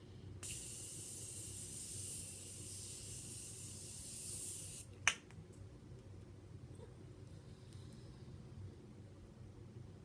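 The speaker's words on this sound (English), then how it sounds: "now I'm just going to set it with the Morphe Continuous Setting Mist. I think this is my favorite setting spray." Morphe Continuous Setting Mist hisses from the bottle in one long, even spray of about four seconds, followed by a sharp click and then quiet room tone.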